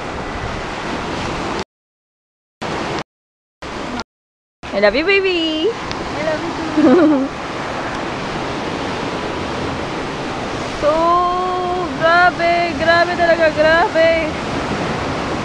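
Steady roar of ocean surf at Pagudpud, Ilocos Norte fills the background, broad and constant, with a few brief dropouts while people chat over it.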